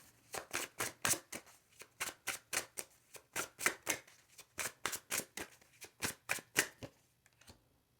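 Tarot cards shuffled and drawn during a reading, a steady run of crisp riffling and flicking bursts, about two to three per second, close and fairly quiet, with no talk.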